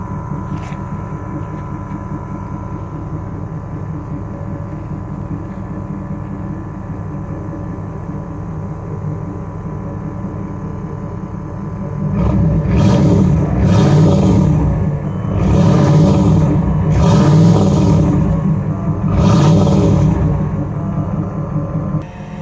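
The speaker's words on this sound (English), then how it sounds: "I'll go and set you guys back here so you can get a little exhaust clip" A 383 stroker V8 in a 1984 Camaro idles with a deep, lumpy rumble, then revs hard several times in a row, each throaty exhaust burst rising and falling.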